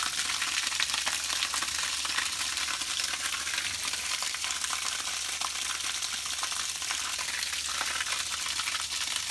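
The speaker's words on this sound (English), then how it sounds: "Pressure coming off the tank." Pressure hisses off a restored honey extractor tank during its final leak test, a steady, fairly faint high airy rush that holds on without pause.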